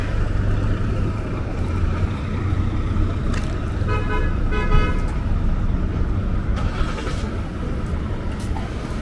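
Street traffic edges around closed streets in Bay Ridge, Brooklyn, during a street festival: a steady rumble of engines and road noise, with a few short car horn toots in the middle.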